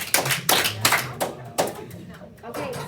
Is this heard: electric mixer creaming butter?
no